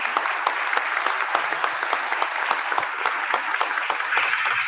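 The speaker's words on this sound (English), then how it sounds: "please let's give them a round of applause to all these candidates" An audience at a congressional district political debate in Pharr, Texas claps for the candidates, the applause steady and moderately close, with a few sharper individual claps standing out.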